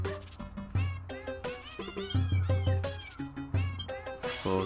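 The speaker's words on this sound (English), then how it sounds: "those screaming cats." Screeching, yowling cats from The Legend of Zelda: Link's Awakening on Switch, a rapid chorus of repeated meows and caterwauls rising and falling in pitch over bouncy game music, loud and upfront.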